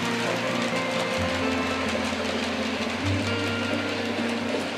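A model locomotive running on a home layout, a steady mechanical hum with changing motor tones and a continuous whirr, close and moderately loud with no talking.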